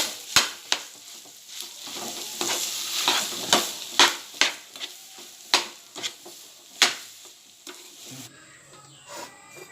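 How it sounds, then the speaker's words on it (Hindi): A spoon scrapes and taps in a pan as mashed boiled potato is mixed into the filling for chicken aloo paratha, with the gas turned off. The strokes are irregular and close, over a faint lingering sizzle, and no one talks. "अब मैं इसमें मैश किया हुआ बटाटा डालूंगी और गैस बंद करके इसे मिक्स करूंगी"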